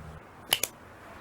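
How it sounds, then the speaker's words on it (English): A deck of playing cards is cut after shuffling, giving two quick, sharp crisp snaps close by, about a tenth of a second apart, over a quiet room background. "Alright, that's enough shuffling. Cut it."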